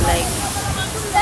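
Waterfall in Kapchorwa, Uganda, a steady broadband roar of falling water that fills the whole clip evenly, loud and close, with wind mixed in.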